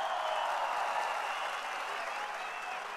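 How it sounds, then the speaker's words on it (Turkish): Dense, continuous applause from a large outdoor political rally crowd in Izmir for Muharrem İnce, loud and sustained for the whole stretch, with faint crowd voices blended into the roar. "Bir alkış yapın ablam."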